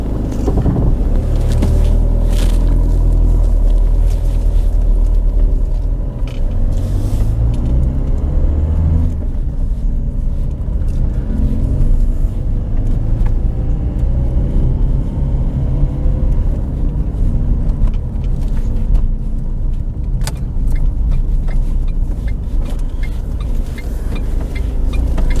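A diesel Ford car is driven, its engine giving a loud, steady rumble that runs unbroken throughout, with no talking.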